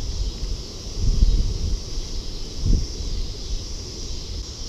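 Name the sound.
strong wind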